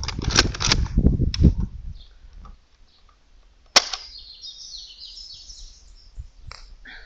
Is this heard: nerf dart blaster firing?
yes